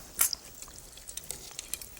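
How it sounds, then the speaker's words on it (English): Fish rolls frying in a pan of hot oil, a soft steady sizzle with small crackles and pops, close by and quiet, no voices. "Oh, it's frying up nicely."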